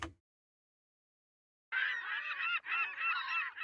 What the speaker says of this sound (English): So you hear the seagulls in there.